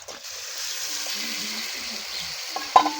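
Small kona fish go into a hot pan of oil and fry with a continuous close sizzle, a brief stir or scrape near the end, no voices.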